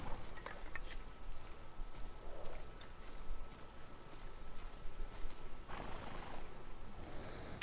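A horse in the Ghost of Tsushima video game gives brief whinnies and snorts over soft hoof steps and outdoor ambience, fairly faint and without talk.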